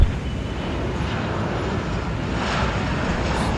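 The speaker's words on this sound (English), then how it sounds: "Look at these flights. Very close airport." Airplanes flying near Tribhuvan airport in Kathmandu, a loud steady broadband roar of aircraft engines holding throughout with no voices.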